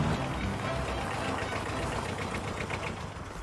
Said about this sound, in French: Le châtelain sur son tracteur.